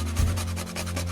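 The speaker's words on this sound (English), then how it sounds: "I'm just grating some nutmeg because I realized I didn't have ground nutmeg" A whole nutmeg rubbed across a grater, giving quick rhythmic rasping strokes over a low steady hum in a home kitchen.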